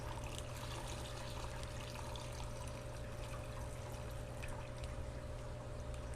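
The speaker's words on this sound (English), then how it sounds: "So I'll just drain all the water out the bag." Water drains out of a plastic fish bag in a steady, continuous pouring trickle, close and fairly quiet, with no voices over it.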